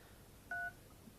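An HTC Wildfire S keypad gives a single short, clean tone as a key is pressed while a name is typed, faint and close in a quiet room.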